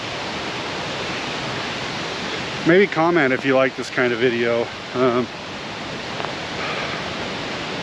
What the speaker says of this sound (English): The noise you hear behind me is Whychus Creek.